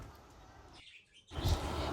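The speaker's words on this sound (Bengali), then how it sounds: "এটা হচ্ছে আমার ঘুঘু পাখি যার ডাকে আমার সকালে মূলত প্রায়ই ঘুম ভাঙে" A pet dove kept in a bird enclosure gives a short call, heard as a brief burst near the end after a soft background hush. It is moderately close and fairly faint.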